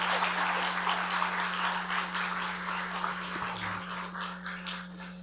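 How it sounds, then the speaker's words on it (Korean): Warm applause from a church congregation during a Sunday Easter service after a choir and string ensemble perform, steady clapping that slowly thins out, with a constant low electrical hum underneath. "우리 뜨겁게 박수로 한 번 더 격려해 주셨으면 좋겠습니다"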